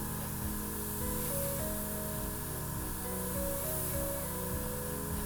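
An airbrush sprays silver paint onto a model Thor's hammer in a steady, continuous hiss, with a repeating musical backing underneath.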